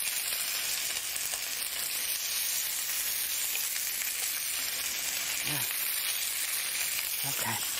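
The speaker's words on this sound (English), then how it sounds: "I'm going to just saute some of the lemon" Lemon sautéing in a hot pan over a lowered flame, a steady loud sizzle and crackle running throughout, with a couple of brief clinks and scrapes near the end.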